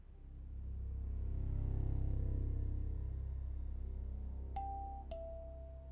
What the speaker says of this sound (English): I got a bad feeling from the moment that I heard the doorbell ring